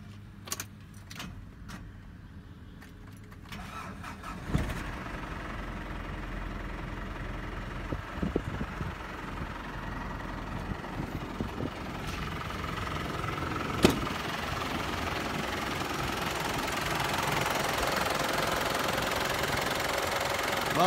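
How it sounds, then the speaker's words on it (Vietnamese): Keys jangle in near-silence, then the diesel engine of a 2002 Ford Ranger four-wheel-drive pickup in original condition cranks and catches, settling into a steady, slightly knocking idle that grows fuller toward the end, with no talking. "Em vào em nổ máy cho các bác xem nghe tiếng động cơ,"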